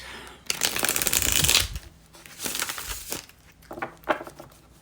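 A deck of reading cards is shuffled close up, a dense riffling burst for about a second, followed by quieter bursts of card handling and soft slaps.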